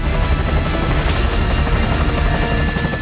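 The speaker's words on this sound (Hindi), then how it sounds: "आसमान से लगातार हेलीकॉप्टर्स पानी की बरसात कर रहे हैं।" Firefighting helicopters drop water over the burning Palisades hills during the Los Angeles wildfires, a steady, loud broadband rotor and engine roar that holds throughout with no voices.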